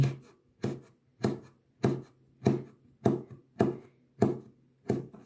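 A knife slices boiled pork skin for sausage on a cutting board, giving nine evenly spaced, firm chopping thuds about half a second apart, close and clear with no talking.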